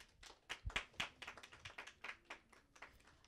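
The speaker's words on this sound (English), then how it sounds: "Please give me a round of applause for Ms." Scattered, fairly faint handclaps from a small audience greet a woman introduced as a speaker at a Black History Month discussion, a few sharp individual claps in an uneven rhythm.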